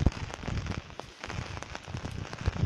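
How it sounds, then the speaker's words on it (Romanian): Heavy night rain pours steadily onto a wet road in Ștefănești, Argeș, a dense, continuous hiss of drops with a few louder splatters, close by and with no voices. "Noaptea plouă abundent,"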